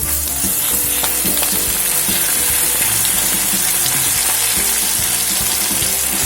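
Ginger, garlic and chili paste frying in hot oil with whole spices like bay leaf, cinnamon, cardamom, cloves and cumin for a Punjabi gravy, a loud steady sizzle with scraping stir strokes throughout, no voices.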